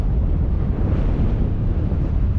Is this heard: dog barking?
no